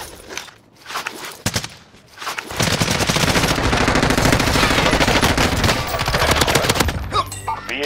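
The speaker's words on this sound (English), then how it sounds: "They're shooting at me." Dense, sustained automatic gunfire from enemies in the Warzone video game, a few scattered shots at first, then a continuous loud burst of rapid fire lasting several seconds with no talk.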